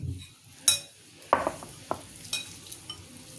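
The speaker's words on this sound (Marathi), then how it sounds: "आता आपण जे बटाटे उकडले होते ते कुस्करून घ्यायचे।" Boiled potatoes being mashed in a bowl for chole tikki: soft squishing presses with occasional utensil clinks against the dish, a few separate close strokes with no talking.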